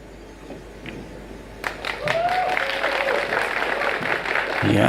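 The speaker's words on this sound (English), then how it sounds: "Yeah, the crowd enjoying that one." Crowd applause breaks out at a men's 10-ball pool world championship in Vietnam, swelling after a quiet moment into sustained clapping from the audience.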